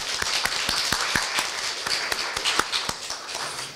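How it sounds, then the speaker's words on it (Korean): A small audience at a Korea University event for international students claps to welcome a guest, with sparse, distinct hand claps ringing out close by in an uneven patter throughout. "박수로 환영해 주십시오."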